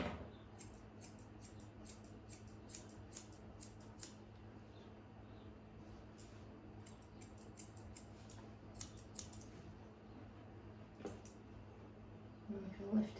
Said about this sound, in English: I'm just going to put my scissors level with his nose and trim that off.